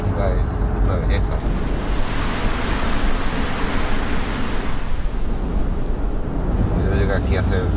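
Sea waves wash steadily onto a shore, with a dense, continuous roar of surf and wind buffeting the microphone throughout. No voices are heard.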